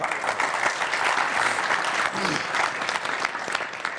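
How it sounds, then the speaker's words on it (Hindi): Sustained audience applause at a Holi poetry gathering greets poet Pavan Agri, a dense wash of many clapping hands filling the room for the whole stretch, with a few faint voices mixed in. "तो पवन आगरी के लिए एक बार जोरदार तालियां"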